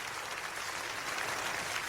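Church congregation clapping in praise during a sermon, a faint, distant wash of applause that stays steady throughout.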